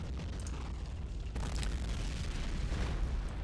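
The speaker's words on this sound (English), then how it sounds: "they're actually hitting us with mortar" Mortar shells burst across a World War I battlefield in Battle of Empires 1914-1918, a dense rumbling roar of booms layered on one another with no clear gap between impacts.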